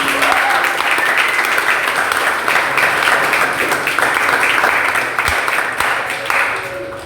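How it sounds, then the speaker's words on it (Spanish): Sustained applause from a church congregation during a sermon on prayer, a dense, steady wash of clapping that fills the whole stretch and tapers slightly near the end. "Denle una aplauso a la palabra de Dios."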